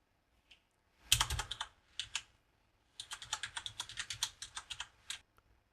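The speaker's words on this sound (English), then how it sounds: "all we're going to do is to type in the host name or the IP address for our Raspberry" Fingers type a hostname on a computer keyboard to connect to a Raspberry Pi, with a quick burst of close, crisp key clicks, a pause, then a longer run of steady keystrokes.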